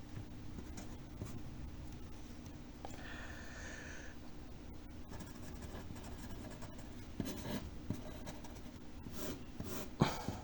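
A pen scratches steadily across paper as a math answer is written out by hand for a Class 10 exercise on sets. The writing sounds close and soft over a constant background hiss, with no talking.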